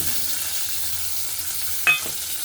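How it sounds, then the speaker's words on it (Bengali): Prawns hiss and sizzle steadily in hot oil with half-fried onions for a jackfruit and prawn curry, a close continuous frying sound broken by one sharp clink of a utensil near the end. "আমি এই চিংড়ি মাছটা এই তেলের মধ্যে"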